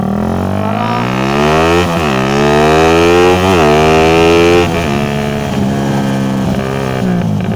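A Yamaha Mio motorcycle engine revs hard on a drag run, a loud continuous whine whose pitch climbs, dips at gear changes and climbs again, close up and without pause.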